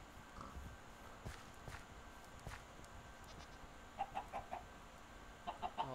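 Chickens cluck in Minecraft, short soft clucks in small groups near the end, faint under a quiet game ambience with light footsteps and occasional clicks.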